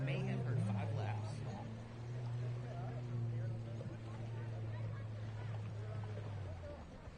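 Stand-up jet skis race on open water at a lake event, their engines making a sustained droning whine with a steady low pitch, fairly distant, while an announcer talks over the top.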